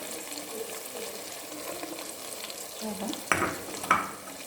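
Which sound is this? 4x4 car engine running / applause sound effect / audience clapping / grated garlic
grated garlic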